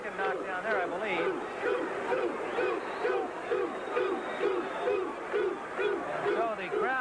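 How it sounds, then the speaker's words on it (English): A boxing arena crowd of Thomas Hearns fans chants in a steady repeated rhythm, loud and massed, the call rising and falling in regular waves for the whole stretch. "the crowd here of Hearns fans chanting 2-2-2"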